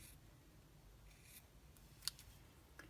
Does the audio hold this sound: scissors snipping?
yes